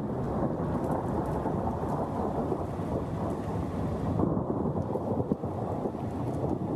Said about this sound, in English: that rumble so out of place when it's snowing is the thunder snow